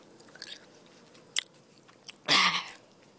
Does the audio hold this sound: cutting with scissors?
no